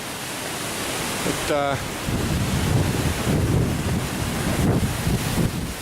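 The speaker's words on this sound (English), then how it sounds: "So we've had nearly a week of winds." Strong winter wind with a severe wind chill roars continuously as loud, broadband buffeting against the microphone, with a brief spoken word partway through.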